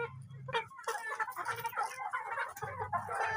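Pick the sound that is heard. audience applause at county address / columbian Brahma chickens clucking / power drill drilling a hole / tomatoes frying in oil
columbian Brahma chickens clucking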